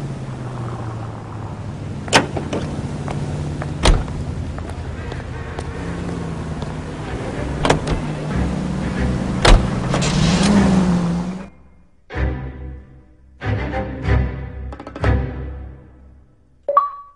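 Car driving in the L.A. Noire video game, a steady engine drone with occasional sharp clicks and thumps, then breaking into short bursts of sound near the end.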